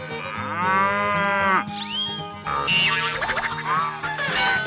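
A cow moos in a 3D animal slide video game, one long, loud, close bellow alone over cheerful game music, followed by bright sound effects.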